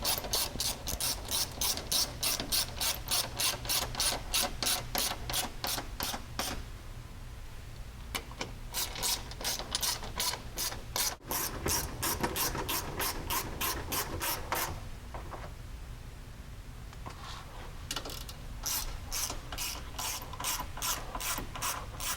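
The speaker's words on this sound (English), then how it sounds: "run your tap through it and chase those holes" Continuous rapid ratchet clicking from a hand ratchet driving a tap to chase bolt threads on a 2019 Polaris Ranger 1000 Crew, steady back-and-forth strokes with a few brief pauses, close and loud, no talking.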